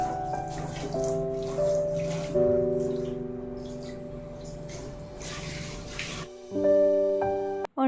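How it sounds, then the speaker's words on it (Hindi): Water runs steadily into a kitchen sink as it is cleaned, with a continuous splashing wash, brief clinks and a tonal hum from the tap, close by and with no talk. "अभी सिंक को मैं अच्छे से साफ़ कर लूँगी"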